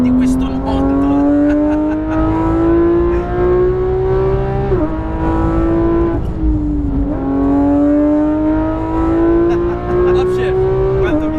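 Sports car, a Lamborghini Huracan Performante, Ferrari 488 GTB or Porsche GT3 RS, on a track: loud, close engine climbing steadily in pitch, two quick upshifts each dropping the tone before it climbs again, with a voice talking over it.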